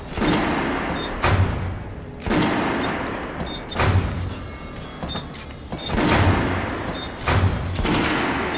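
Gunfire volleys crackle in the video game Metro Last Light Redux, loud bursts of rifle shots recurring in waves with short gaps between them.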